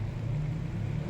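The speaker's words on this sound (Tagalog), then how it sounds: "Kaya ako naririnig na may sasakyan na dumadaan." Steady low rumble of a vehicle passing on a nearby highway, heard from an outdoor kitchen, continuous engine drone with no voices.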